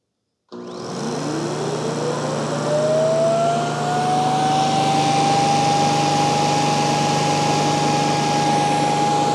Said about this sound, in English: now it's gonna automatically suck out what's inside there